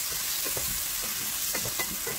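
Onion frying in a pan for an Ethiopian vegetarian dish, a steady close sizzle with soft scraping stirs every half second or so.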